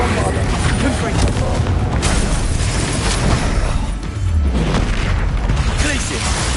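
Spell blasts from the Hogwarts Legacy video game, a run of booming explosive bursts and crackling impacts filling the mix, with a voice calling out between them.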